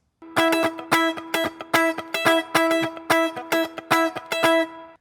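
Electric guitar picks a steady rhythmic line of bright doubled notes an octave apart, loud and close, repeating in even bursts with no talking.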